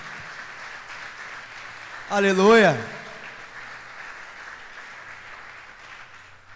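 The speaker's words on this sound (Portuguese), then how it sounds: "Você pode aplaudir Ele por isso?" A church congregation applauds during a service, a steady wash of clapping that runs throughout, with a loud shouted voice rising over it near the middle.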